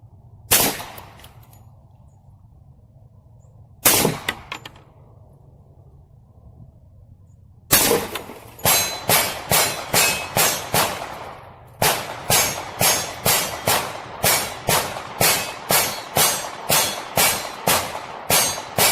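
Hi-Point pistol fired at targets set at 15 and 30 yards, loud sharp outdoor shots: two isolated reports, then two quick strings of about five and eight evenly spaced rounds, no talking.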